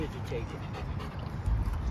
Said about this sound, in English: Gorgeous dog.